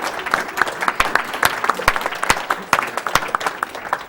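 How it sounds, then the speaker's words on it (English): Audience at a live speedrunning marathon event applauding, sustained clapping from a crowd with sharp individual claps standing out close by, loud and even throughout with a light crowd murmur. "Keep clapping"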